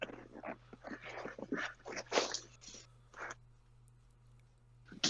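A pet dog whimpers and snuffles close by in a room during a pizza delivery, a run of short uneven bursts over a steady low hum, trailing off before one last sound at the end.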